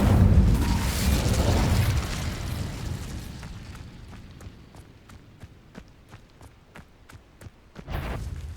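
A spell-casting burst in the Hogwarts Legacy video game: a loud whooshing roar opens the clip and fades, followed by a series of sharp crackling pops, with another swell at the end.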